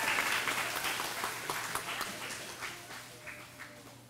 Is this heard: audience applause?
yes